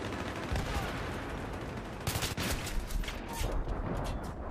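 Shotgun blasts in Battlefield 3 gameplay, a few sharp loud bursts cracking out over a dense layer of ongoing battle noise.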